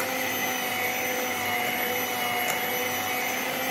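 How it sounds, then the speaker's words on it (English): An electric mixer blends eggs, sugar and butter for a Christmas fruit and rum cake, giving a steady, close whirring hum that holds at an even level throughout with no talk. "The eggs, the sugar and the butter is getting well blended."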